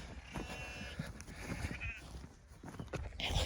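Sheep bleat outdoors during lambing week, several blurred calls over steady wind and field noise.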